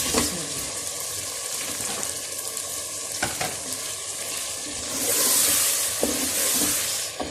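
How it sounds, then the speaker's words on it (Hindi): Chicken for bhindi gosht sizzles and fries steadily in a pan while being stirred, a continuous close hiss with scraping stirs and a louder burst of sizzling near the end. "मैंने चिकन को अच्छी तरह भूनना है।"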